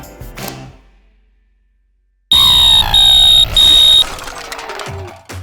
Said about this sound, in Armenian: Եվ պարբերաբար ստուգեք ձեր ծխի դետեկտորները,